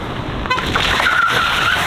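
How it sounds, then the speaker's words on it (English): A car sliding in a drift with the e-brake pulled, giving a brief loud tire squeal over a roaring engine, close and without talking. "you accelerate, turn, pull the e-brake down, slide like it"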